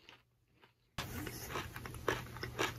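Chocolate cornflakes from a French snack box crunch in the mouth, a close, dense run of crisp bites and chewing that starts abruptly and carries on steadily, with no talk over it.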